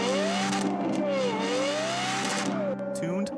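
A Lexus LFA's Yamaha-developed 4.8-liter V10 howls loudly at high revs, its pitch rising and dipping through repeated gear changes in a sharp continuous wail, close and dominant throughout.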